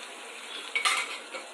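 Ginger garlic paste is tipped into a hot pan and stirred, giving a soft sizzle with a brief scrape of a spoon, faint and short.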